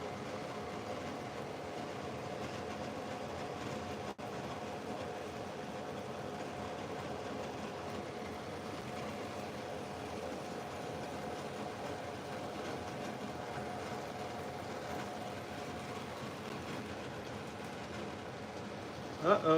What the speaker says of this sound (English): now we're printing PETG at 300 Celsius at around 80 plus cubic millimeters per second